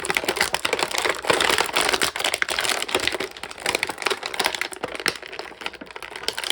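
Plastic packaging on a Masters of the Universe Trap Jaw action figure crinkles and clicks while being opened, a dense run of close, irregular crackles and snaps without talking.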